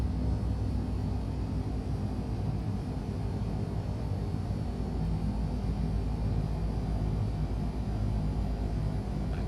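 Twin engines of a Piper PA-31 Navajo in the X-Plane 11 simulator throttled down to about 1,000 RPM, a steady low droning rumble that stays constant throughout with no talking.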